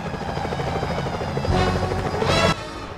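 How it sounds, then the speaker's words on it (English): Security helicopters in the Sly Cooper: Thieves in Time game, a steady rotor drone under the game music that swells louder in the middle and cuts off abruptly near the end. "Those security choppers are bad"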